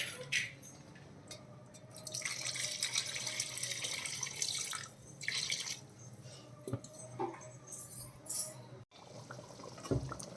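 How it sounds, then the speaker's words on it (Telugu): Water poured into curry masala cooking in a pan for butter chicken, a steady trickling splash with wet bubbling and clinks, fairly close and continuous for about ten seconds. "కొంచెం మసాలా మగ్గిన తర్వాత ఇప్పుడు వాటర్ యాడ్ చేసుకోవాలండి"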